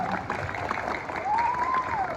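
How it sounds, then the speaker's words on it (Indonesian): Light applause at an Indonesian school event about Betawi Lenong culture, a thin, faint patter of clapping from a small audience, mixed with a few indistinct voices. "Beri tepuk tangannya dong"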